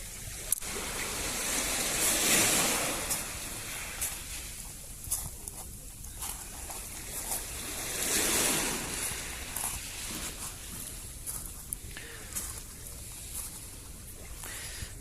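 Waves wash onto the shore in slow surges, swelling and receding every several seconds, with a steady broadband hiss between them.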